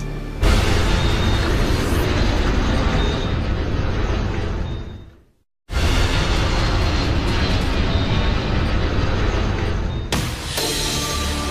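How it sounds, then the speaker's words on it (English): A small Cessna plane falls spiraling toward the ground after a mid-air collision with a much larger 727, heard as a loud, steady roaring rush that cuts out abruptly for a moment, then resumes. "An NBC News crew captures a small plane spiraling to the ground after it has collided half a mile up with a much larger 727"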